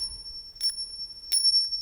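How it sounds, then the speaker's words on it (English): Tingshas, small metal chimes, are struck together twice, each strike a bright, high, sustained ring that lingers and decays slowly, close and clear with no voices. "Tingshas are also little metal, little like chimes or cymbals, right?"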